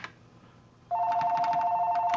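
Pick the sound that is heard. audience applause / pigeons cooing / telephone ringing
telephone ringing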